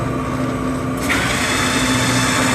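A lathe spins up and runs a large hole saw held in an ER32 collet chuck on the tailstock, cutting aluminum stock; a steady whirring drone that grows louder and brighter as the cut begins, alone without talk.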